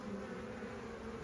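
Honeybees buzz steadily around empty beehive frames at an apiary on Vancouver Island, a dense close drone without pause.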